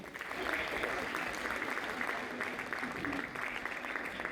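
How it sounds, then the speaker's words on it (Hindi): Steady applause from a crowd, sustained and fairly even throughout, heard from a moderate distance with no clear voices on top. "एक बार जोरदार तालियां"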